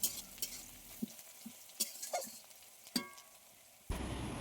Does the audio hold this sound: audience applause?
no